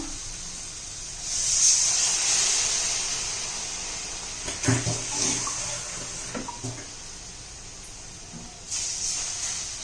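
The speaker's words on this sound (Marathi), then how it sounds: "ते शिजण्यासाठी थोडं पाणी घालूया" Water poured into a pan of capsicum curry, a hissing splash that rises after a second and runs for several seconds, followed by light clinks and stirring.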